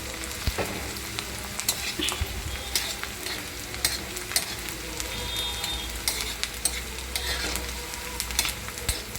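Chopped onion, garlic and cumin fry in a pan, giving a soft continuous sizzle broken by the repeated scrape and clack of a spoon stirring against the metal.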